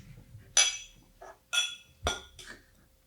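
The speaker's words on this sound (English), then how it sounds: "Let's actually clink on this one." Whisky glasses clinking together in a toast during a tasting, several bright, sharp glassy taps spaced about half a second apart, close and crisp against a quiet room with no talking.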